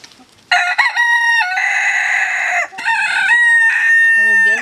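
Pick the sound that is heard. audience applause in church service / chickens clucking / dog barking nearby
chickens clucking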